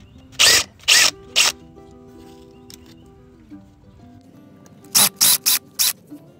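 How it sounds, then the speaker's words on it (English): A power drill backing screws out of an Orbit sprinkler valve: three short whirring bursts, a quiet pause with faint handling, then four rapid bursts close to the microphone. "So I have a drill so it will make things faster."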